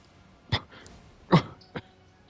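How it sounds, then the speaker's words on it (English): A person coughs in rough bursts while playing Elden Ring: two strong hacks about a second apart, then a shorter, weaker one, close and fairly quiet against a low background. "Like, I'm coughing from the pain over here."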